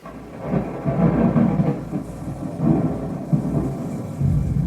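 Rolling thunder effect rumbles in the background of a music video, low and continuous, swelling in several heavy waves at moderate loudness.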